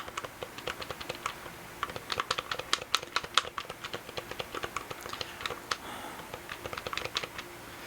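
Buttons on a BrawlerGen gamepad click in quick, irregular bursts, sharp close-up taps pressed rapidly with short pauses between runs.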